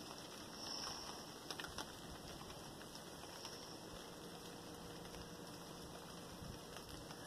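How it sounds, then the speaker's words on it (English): Steady rain falling in Augusta, Georgia, a soft, even patter and hiss that continues throughout at low volume, with a few slightly louder drips early on and no voices. "That's why I'm glad it's raining."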